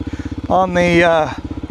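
A Kawasaki KLX 300 motorcycle engine chugs in a steady, rapid rhythm while riding on a highway, with a voice briefly speaking over it midway.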